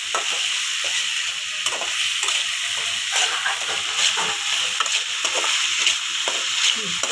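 Vegetables for kichadi sauté in a pan with a steady, close sizzle and hiss, broken by soft, repeated scraping of stirring throughout.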